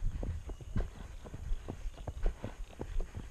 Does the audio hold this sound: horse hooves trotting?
yes